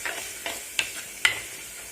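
Curry leaves crackle in hot oil in a pan for a Tamil dried fish curry (karuvattu kuzhambu), a soft continuous sizzle broken by a few sharp popping bursts and stirring clicks, with no voices.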